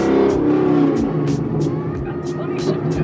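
A manual drift car accelerating in third gear, its engine note rising steadily and close under continuous in-car conversation between driver and passenger.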